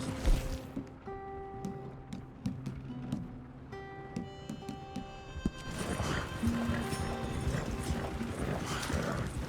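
Horse hooves clip-clop in a steady rhythm amid mechanical clanks and tonal sounds in Red Dead Redemption II, moderately loud and close.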